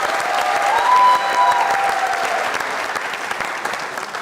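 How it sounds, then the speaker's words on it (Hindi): An audience bursts into steady, enthusiastic applause in a studio comedy show setting, dense clapping that holds for several seconds and slowly eases, with a faint tone briefly above it. "तालियां।"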